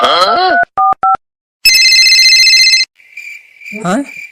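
Two short keypad beeps sound as a number is dialed, followed by a longer buzzing multi-tone signal, then a steady tone under a brief voice.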